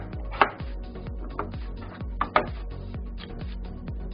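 Steady, rapid knife chops slicing potatoes thinly on a cutting board at an even pace, close up, with a couple of sharper knocks along the way.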